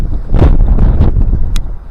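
Strong gusts buffet the microphone by a frozen river, a loud low rumbling roar that swells and dips over two seconds.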